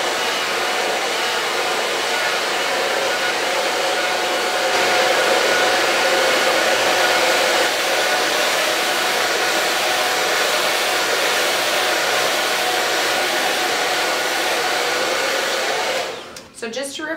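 A hair dryer blows on a woman's hair with a steady, loud broadband whoosh for most of the clip, cutting off abruptly near the end.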